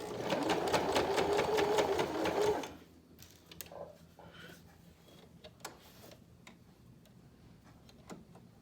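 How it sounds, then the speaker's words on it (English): A sewing machine stitching a fabric face mask runs loud and fast for about three seconds, then stops, leaving faint handling clicks and rustles. "I lost the thread in the top part of my sewing machine"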